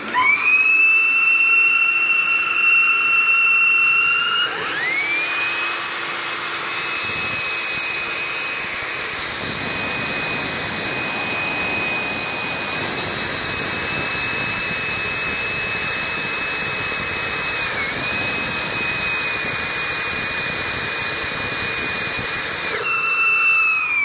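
Dust collector or extractor running through a 2.5-inch hose, a loud, steady whining roar that holds nearly unchanged for about twenty seconds, with a higher-pitched tone at the start and end where the airflow shifts.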